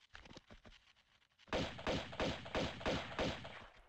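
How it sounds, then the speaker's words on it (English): Lara fires her pistols at a crab in the Tomb Raider 2 video game: a rapid, even run of about half a dozen loud, sharp shots, preceded by a quieter, scattered patch of game sounds. "Why is she shooting a crab?"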